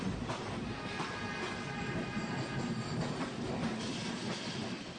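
A train rolls along a railway near a platform, a continuous rumbling clatter of wheels on track with faint squealing tones, steady and moderately loud throughout with no voices.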